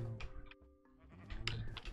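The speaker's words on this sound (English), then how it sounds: "Let's go shear some sheep." Sheep bleating in Minecraft, two or three short wavering bleats close up, with a gap of quiet between them.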